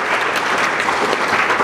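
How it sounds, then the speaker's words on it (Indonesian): A crowd gives a loud, dense burst of applause for the chairman of the Christian Youth Forum in Tanah Papua at a gathering; the clapping is close and continuous throughout. "kita beri aplaus yang meriah"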